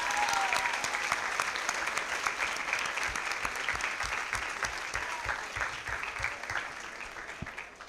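Audience applause at a model UN opening ceremony, a sustained dense clapping of a sizeable crowd filling the hall, steady throughout and easing slightly toward the end.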